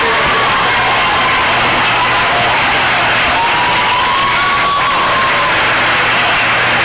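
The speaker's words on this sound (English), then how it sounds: "Student section for Ortonville, kind of standing up, cheering the team on" Ortonville high school student section standing and cheering at a 2002 basketball game, a steady, loud roar of crowd noise with whoops and shouts filling the gym throughout.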